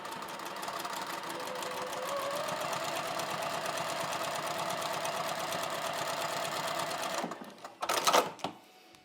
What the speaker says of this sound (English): I'm just going to go ahead and stitch with no back stitch